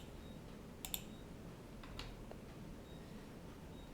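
A computer mouse clicks the search button: a couple of faint, quick double clicks and a lighter click over steady background hiss.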